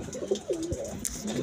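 Pigeons, a mix of homer and local breeds, coo in low, rolling throaty phrases close by, several overlapping calls with brief pauses and no talk.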